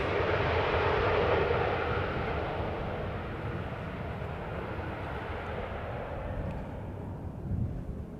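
A Vueling Airbus A320 jet on landing approach makes a broad, steady roar, loudest at first and slowly fading as it passes, with no talk over it.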